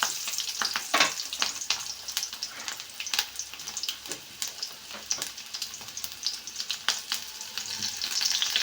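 Green chilies and onions fry in a spoonful of hot oil in a pan, crackling and popping with irregular sharp spits over a continuous close sizzle.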